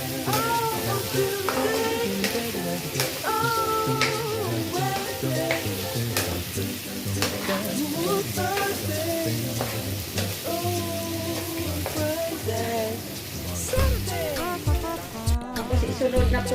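Carrots sizzle in oil in a frying pan for pancit gisado while being stirred, a steady close frying crackle with scraping strokes throughout.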